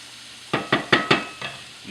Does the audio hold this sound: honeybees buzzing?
no